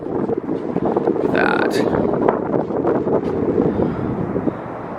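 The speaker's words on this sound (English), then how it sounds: "Windy up here though when you turn the corner." Wind buffets the microphone on a high hotel balcony in Las Vegas, with a steady broadband rush and a few stronger gusts near and loud throughout.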